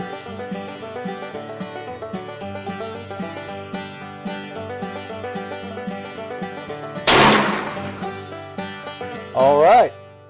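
A Thompson Contender 30-30 rifle fires a cast bullet in one sharp, loud gunshot, struck against steady background music, and a second strong burst follows near the end.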